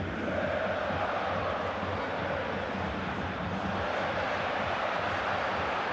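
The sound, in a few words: away football supporters applauding at stadium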